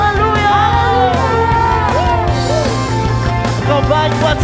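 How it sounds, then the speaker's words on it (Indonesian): A church congregation at a midweek service shouts hallelujah together over loud worship music. The voices form a dense, continuous crowd roar with whoops and yells rising above the instruments. "Mari sama-sama sorakan haleluya."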